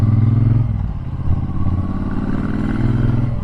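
Bobber Black motorcycle engine idling steadily and close after a booster plug was fitted, a smooth continuous low rumble with light mechanical clatter, no voices.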